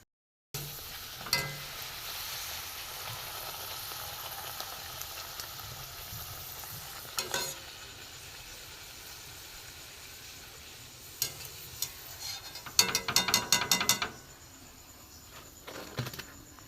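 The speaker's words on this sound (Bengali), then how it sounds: "এইভাবে আমি সব কটা ভেজে নেব" Sweet mango luchi fry in hot oil with a continuous soft sizzle, interrupted by occasional clinks and a cluster of sharp scraping taps from the utensil toward the end.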